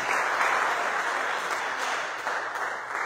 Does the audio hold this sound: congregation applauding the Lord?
yes